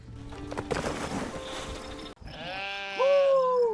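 Sheep and goats bleating close by, a clear wavering bleat rising loudly in the second half after a burst of mixed farmyard noise.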